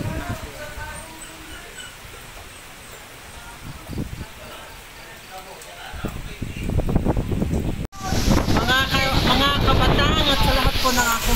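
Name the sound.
strong typhoon wind in San Luis, Batangas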